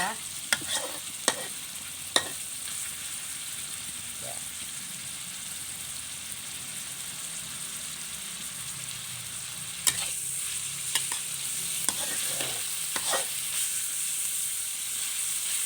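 Garlic stir-fries in hot oil, a soft, even sizzle running throughout with occasional sharp taps and scrapes from a utensil against the pan, close and unaccompanied by talk.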